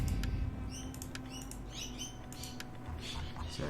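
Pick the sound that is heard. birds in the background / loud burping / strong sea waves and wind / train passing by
birds in the background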